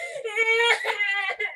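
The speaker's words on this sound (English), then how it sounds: "That's a cat." A cat gives a drawn-out, whiny meow lasting over a second, rising and wavering in pitch, close and clear with no other sounds around it.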